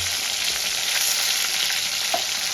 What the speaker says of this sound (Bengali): এবার মাছগুলো আমি লাল লাল করে ভেজে দেবো